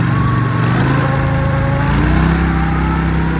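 A John Deere 4020 tractor fitted with tracks drives through deep snow along a roadside ditch, its engine a loud, steady, close-up drone with a low harmonic hum that shifts pitch slightly partway through.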